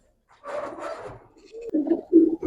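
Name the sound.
silver Giribaz pigeons cooing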